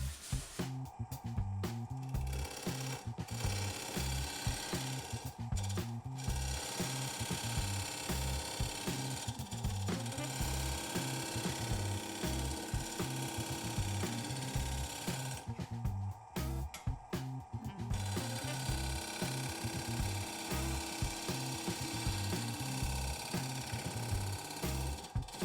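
A wood lathe turns a spalted alder bowl, giving a steady, loud motor hum and a continuous scraping, chattering cut throughout, with brief pauses where the tool lifts off the wood.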